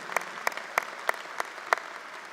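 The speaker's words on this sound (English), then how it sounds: "Yes, give them a round of applause." Sparse, widely spaced claps from an audience at the 2018 Northeastern University commencement ceremony, about six distinct claps at a regular rhythm over faint room ambience.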